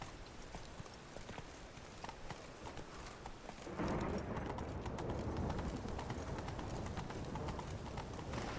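A horse gallops in the video game The Witcher 3: Wild Hunt, with rapid, continuous hoofbeats over a rushing wind-like wash that swells louder partway through and stays steady.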